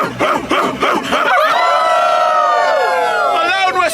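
A crowd at an anime convention imitates a wolf, rough growling voices rising into a long, loud sustained howl from many people together.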